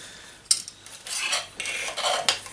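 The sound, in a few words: handling Opinel knife and spork utensils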